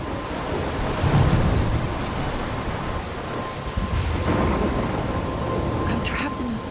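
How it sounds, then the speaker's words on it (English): Thunderstorm in the video game Life is Strange: steady dense rain with rolling thunder rumbles, a continuous loud wash of storm noise throughout, with a faint voice at times underneath. "I'm trapped in a storm?"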